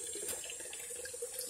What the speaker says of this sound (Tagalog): mahina na din yung tulo ng tubig namin